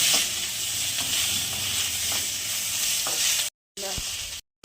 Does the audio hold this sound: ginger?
yes